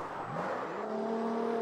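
A Toyota Supra-like sports car engine revs hard in the open-world mobile racing game CarX Street after a nitro boost near top speed, a steady loud whine climbing in pitch, continuous and close.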